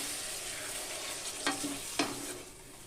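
Sweet potato and pumpkin stems frying in a pan, a steady close sizzle with two sharp hiss bursts as water is poured in, then the sizzle settling back to a low crackle.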